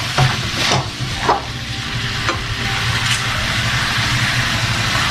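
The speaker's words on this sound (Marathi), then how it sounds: "आता यात मॅगी मसाला घालतोय." Maggi masala from three packets is tipped into a hot pan and stirred, giving a steady sizzling hiss with a few sharp scraping and tapping strikes of the spoon early on over a constant low hum.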